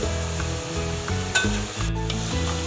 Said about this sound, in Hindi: ये हमारे फ्रेंच फ्राई हो रहे हैं।